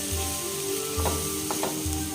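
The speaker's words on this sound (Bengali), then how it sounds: "এবার এটাকে কাঁচা গন্ধটা চলে যাওয়া পর্যন্ত ভেজে নেব।" Ground turmeric, red chili, cumin and coriander powders fry in a pan, giving a steady close sizzle with a few soft scraping stirs.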